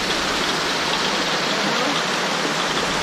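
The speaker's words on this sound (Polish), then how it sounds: "Woda rurą idzie na kołowrót." Stream water pours steadily through a pipe onto a wooden waterwheel in a mountain village in the Pamirs, a dense, even rushing splash close by with no pauses and no voices.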